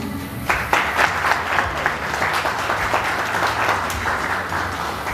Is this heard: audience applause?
yes